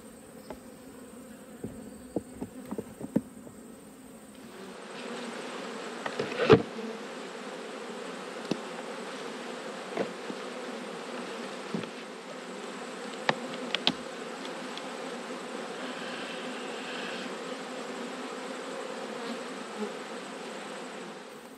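Honey bees buzz around an opened hive cluster during autumn beekeeping, a low continuous drone that swells after a few seconds, with scattered clicks and knocks of handling close by.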